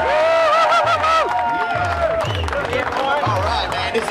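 Street crowd on Flinders Street, Melbourne, clapping and cheering during a busking performance, continuous applause and hubbub under a voice and looping beat.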